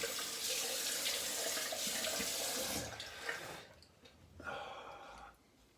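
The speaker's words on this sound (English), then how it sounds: "I rinse warm to get the soap off, and I rinse cold because it feels good and you tighten the skin" Water runs from a tap as soap is rinsed off a face, a loud continuous splashing stream that breaks into softer separate splashes and snorty breaths toward the end.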